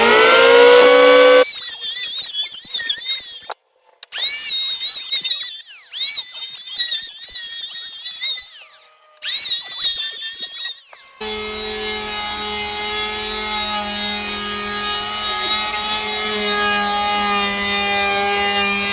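A power planer takes passes over wooden boards for a firewood shed, set to a 1/64 depth. Several loud, close bursts of rough whining cut are separated by brief pauses, followed by a steady high whine as the planer runs free.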